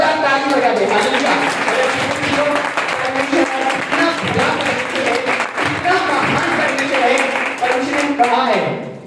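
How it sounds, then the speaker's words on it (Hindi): A church congregation breaks into loud, sustained clapping that rolls on steadily for several seconds, with a preacher's voice and background music mixed in. "परमेश्वर ये जोरदार ताली बजा दे"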